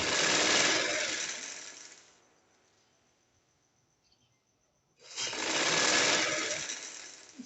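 Close, loud sewing machine stitching a poncha trouser hem runs in two sustained bursts separated by a quiet pause of about three seconds.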